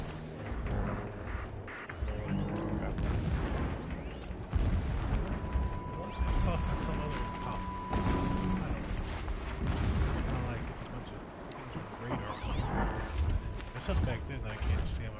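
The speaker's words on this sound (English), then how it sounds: "Explosions in the distance." Distant explosions and booming blasts in the video game Horizon Zero Dawn, rumbling repeatedly across a dense mix of game sound with speech over it.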